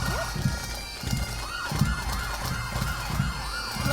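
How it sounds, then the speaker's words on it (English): Pipes and drums marching in a Christmas Santa Claus parade in Innisfil, with a sustained skirling drone and wavering melody over steady drum hits, loud and continuous throughout. "Just have a little pause as we hear our pipes and drums"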